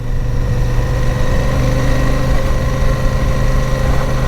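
A Royal Enfield Super Meteor 650 motorcycle idling, its exhaust giving a steady, loud, close-up low rumble with an even throb and no variation in pace, no voices present.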